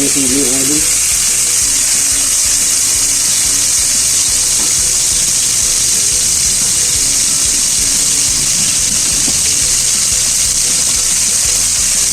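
Palapa sizzling in hot cooking oil, a steady loud crackling hiss that fills the whole clip with faint speech underneath.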